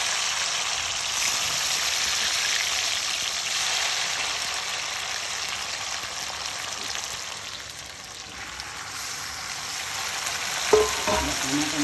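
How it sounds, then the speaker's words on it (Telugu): Tomato pieces fry in hot oil with garlic for a long-keeping pickle, giving a constant, close sizzle with stirring scrapes, dipping briefly before a sharp clatter near the end; no speech. "ఇలా టమాటా ముక్కలన్నీ వేసి"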